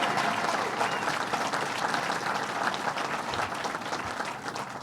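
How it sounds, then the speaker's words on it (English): A crowd gathered at Belmont Park race track applauds, with dense, steady clapping that carries on for about five seconds and fades slightly toward the end. "Let's give him another round of applause."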